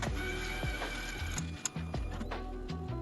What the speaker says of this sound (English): Put the long T-card into the printer and it will automatically cleaning the roller inside.